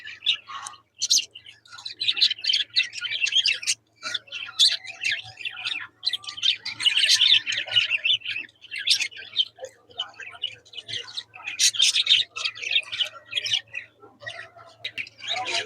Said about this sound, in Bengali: পাখির যে ডাক কলরহ কিচির গুলো শব্দগুলো ভালো লাগে